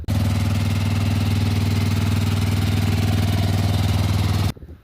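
A 1988 Honda TRX 350D quad bike engine idles steadily and loudly with a fast, even throb close by, then cuts off abruptly near the end, leaving quiet.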